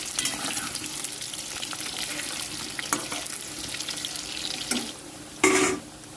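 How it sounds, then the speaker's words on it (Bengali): Potatoes fry in hot oil in a pan for a chicken curry, a continuous bright sizzle with occasional stirring scrapes, then a short quieter gap and a final sharp burst of hissing; no talking. "তো আলু কিন্তু ভাজা হয়ে গেছে"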